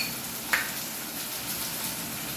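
Vegetables frying in a pan for kaju masala give a steady, close, continuous sizzle with a brief sharp clink near the start and no speech.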